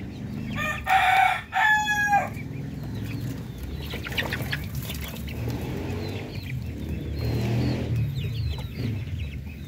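Young Darag native chickens in a breeder pen, a rooster crowing loudly and close in one long strained call, followed by continuous soft clucking and shuffling from the flock.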